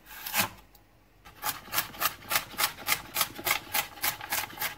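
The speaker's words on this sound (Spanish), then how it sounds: "Vamos a cortar el apio en cuadraditos chiquititos." A knife dices celery into small cubes for a vegan tofu bolognese, with one early cut followed by a pause and then a steady, even run of close, crisp chops on a board.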